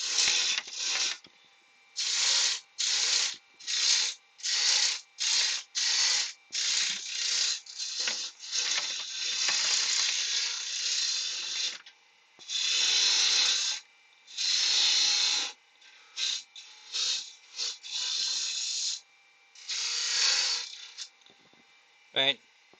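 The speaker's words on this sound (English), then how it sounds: "Right, that's all we can do with the roughing gouge." A roughing gouge shaves wood spinning on a lathe while a snowman is roughed to size, giving repeated loud rasping bursts in an uneven rhythm, separated by short quiet gaps.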